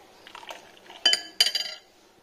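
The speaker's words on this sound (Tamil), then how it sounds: "இதை நல்லா நுர வர மாதிரி" Wheat milk for karuppatti halwa poured from one metal vessel to another to raise froth: a soft splashing pour punctuated by two sharp, close metallic clinks.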